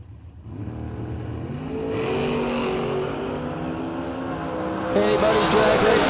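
Drag race cars, including an S10, launch off the starting line and accelerate hard at a drag strip, their loud engine roar climbing in pitch under a track announcer's commentary.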